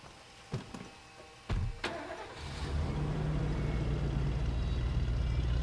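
A car in the video game State of Decay cranks with a couple of clicks and sharp starter bursts, then its engine catches and settles into a steady, loud running drone as the vehicle drives off.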